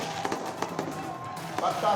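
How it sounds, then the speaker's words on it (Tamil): Firecrackers burst outside during India's cricket team victory celebration, a string of sharp pops at irregular intervals heard from inside a studio, partly masked by someone talking over them. "அந்த அளவுக்கு ஸ்டுடியோவில் வெடிக்கிறார்களா என்று நினைக்கும் அளவுக்கு அந்த பட்டாசு சத்தம் இந்தியா முழுவதும் தற்போது வெடித்துக் கொண்டிருக்கிறது"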